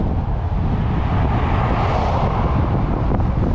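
A strong headwind roars across the microphone during a bike tour toward the Everglades, a loud, dense and unbroken rushing buffet with no voices.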